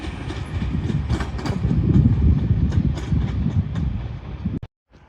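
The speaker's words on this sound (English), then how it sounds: "Departing now is a Avanti West Coast 390 Pendolino bound for London Euston from Glasgow Central" Avanti West Coast Class 390 Pendolino electric train pulling out of Carlisle station, bound for London Euston: a steady, close, low rumble of wheels and traction with light clatter, which cuts off sharply near the end.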